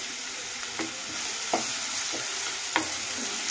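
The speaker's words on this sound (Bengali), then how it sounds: "পেঁয়াজটা ভালো করে লাল করে নিতে হবে।" Onion being fried and stirred in a pan, a steady sizzle of oil broken by several distinct scrapes and knocks of a spatula at irregular intervals; no one speaks.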